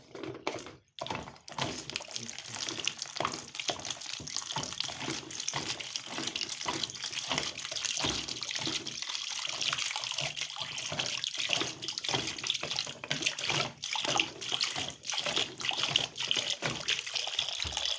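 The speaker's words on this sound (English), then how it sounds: "As one can see, I've drained the water from the washing machine." Water trickles and splashes steadily as it drains out of an AEG washing machine, with a wet, irregular flow and small gurgles, close by and without speech.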